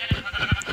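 Two short, close sheep bleats in a video game, evenly spaced less than half a second apart, with faint background tones.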